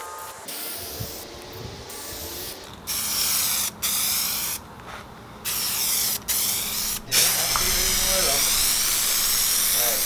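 Spray gun applying a first coat of paint to Nissan 240SX car trim, a loud steady hiss in several bursts that turns continuous, with people talking and laughing between and over the spraying.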